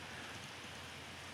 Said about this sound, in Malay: sekarang sedang hujan